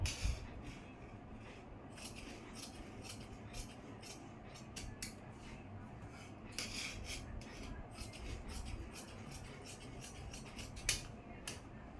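Scissors cutting chudithar pant fabric, a steady close rasping and swishing of blades through cloth that goes on throughout with small bright snips.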